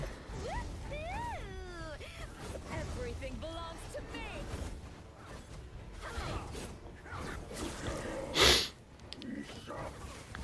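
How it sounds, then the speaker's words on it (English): One sharp, loud sniff from someone with a cold, brief and close, coming after a stretch of quiet talk. "I've still got sniffles and a cold."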